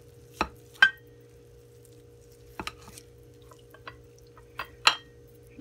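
Corned beef being broken up in a pan, sparse soft scraping and clinking taps of a utensil against the pan, a handful of separate knocks spaced over a low steady hum.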